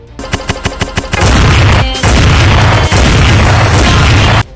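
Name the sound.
gunfire, six rounds fired from a gun in a reel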